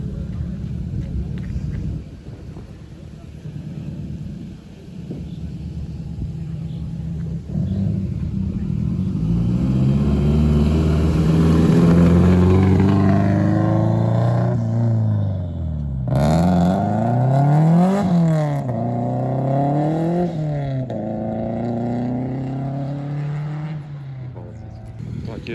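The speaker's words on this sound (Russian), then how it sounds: "О, подтянулись тачки." Rally cars race past at speed during the 2024 White Nights rally in Lahdenpohja, Karelia, their engines rising and falling in loud revving passes over a steady rumble, with speech in the background.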